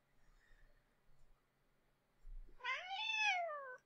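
A house cat lets out a single clear, drawn-out meow late in the clip, after a few seconds of quiet room tone.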